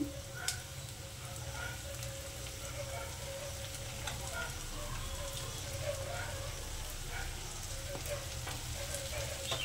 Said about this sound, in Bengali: পেঁয়াজটাকে আমি হালকা একটু সোনালি রঙের করে ভেজে নেব।